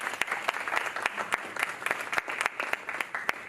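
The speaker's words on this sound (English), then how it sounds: "Give him a big round of applause." An audience at a report launch event applauding, steady clapping with a few sharp individual claps standing out near the front.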